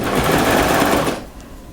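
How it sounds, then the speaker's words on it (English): A serger runs a seam through French terry fabric, a loud, fast mechanical whir up close that cuts off near the end, leaving quieter room tone. "when you sew with your serger, having the 6 millimeter seam allowance"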